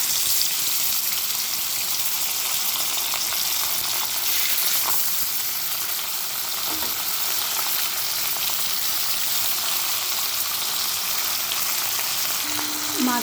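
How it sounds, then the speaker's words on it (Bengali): Khoira fish coated in salt and turmeric fry in hot oil, giving a loud, steady sizzle and crackle that runs unbroken with only small spits and pops. No one speaks. "এবার আমি মাছগুলোকে ভেজে নেব।"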